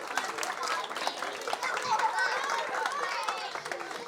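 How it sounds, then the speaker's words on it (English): Audience clapping at a children's book launch for a museum mystery story, a dense, steady round of applause filling the room, mixed with children's voices and chatter. "A round of applause."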